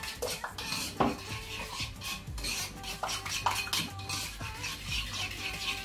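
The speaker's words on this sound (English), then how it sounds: "So you add it inside the sugar mix and lemon juice. Then you whisk it." A whisk beats cream mixed with sugar and lemon juice in a bowl, giving quick, irregular scraping and clinking strokes against the bowl's sides along with a few louder knocks, close by and heard alone without any voices.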